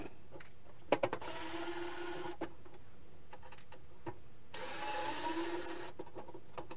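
Torx screws being backed out of an All-Clad slow cooker with a small powered driver, two bursts of buzzing whir separated by brief clicks and taps, close and fairly faint, no talk.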